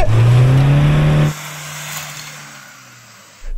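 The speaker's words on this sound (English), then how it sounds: "I was going full throttle and not much was happening apart from it spinning its wheels a bit and chucking up a load of mud" Pickup truck, a Ford Ranger or Toyota Hilux, at full throttle off-road with wheels spinning in mud: a loud, steady engine roar for over a second that cuts off abruptly, leaving a low, quieter rumble before noise returns at the end.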